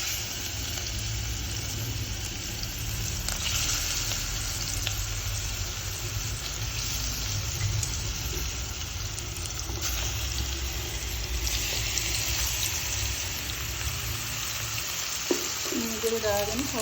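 Young jackfruit pieces frying in hot oil make a constant, dense sizzle close up, with occasional stirring clatter and a brief metallic scrape near the end.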